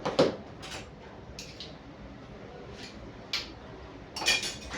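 A spoon stirs fruit salad with ice cream in a bowl, giving a few sparse, light clinks and scrapes against the dish, quiet and close with pauses between strokes.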